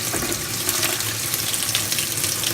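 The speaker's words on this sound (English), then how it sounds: "And then it just fills up to the max point, so I will let it fill up" Water rushes steadily into a GE top-load washing machine tub during a hot-water tub clean cycle, a dense, even hiss of filling with no talk.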